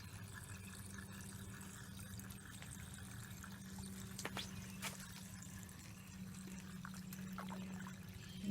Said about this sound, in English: It comes down the waterfall.